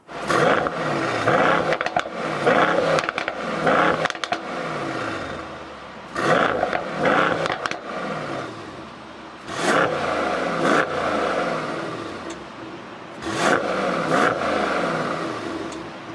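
A 2020 Mercedes-Benz E63 S AMG in Comfort mode rumbles through its exhaust with repeated revving bursts, roughly four rising surges separated by brief lulls, close and fairly loud with no talk.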